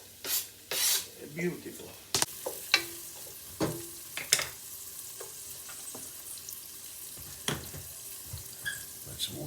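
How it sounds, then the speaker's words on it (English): Onions and garlic frying in a pan for an Italian Sunday sauce, a steady soft sizzle with clanks and scrapes of stirring and a brief spoken remark. "I throw the onions in."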